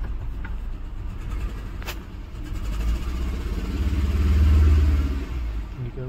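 A car engine, just started, idles steadily with a low, even drone that swells slightly in loudness toward the end; a single sharp click sounds early on.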